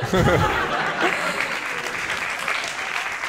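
Audience applause at a comedy show, a loud sustained round of clapping with some laughter early on and a voice talking over the start.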